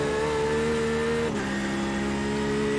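A 2020 Porsche GTE race car lapping Le Mans gives a loud, continuous engine drone, its steady pitch dipping briefly midway during a gear change before holding on again, with no talk over it.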